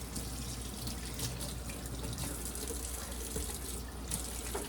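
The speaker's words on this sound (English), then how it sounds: "I'm gonna wash my hands here." A sink tap runs steadily while hands are washed in a home kitchen, a close, even rush of water with slight splashing variations throughout.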